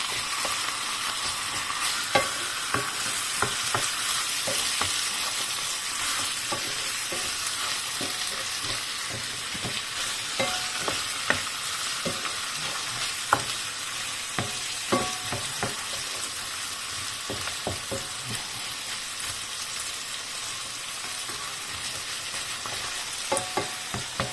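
Chili peppers sizzle steadily in a hot pan for mutton curry, a dense continuous fry broken by frequent sharp crackles and pops and the occasional scrape of stirring, with no talking.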